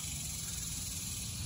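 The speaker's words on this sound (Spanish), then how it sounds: "disfrutando el sonido de las chicharras, las famosas chicharras" A dense, steady insect drone of cicadas in the Amazon rainforest buzzes continuously with a high shrill layer, unbroken and fairly close.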